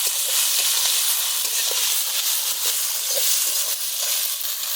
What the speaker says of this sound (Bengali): তেল গরম হয়ে গেছে। এবার দিয়ে দেবো টমেটো, পেঁয়াজ আর কাঁচা লঙ্কা। চলো ভালো করে নেড়ে নেবো একবারে।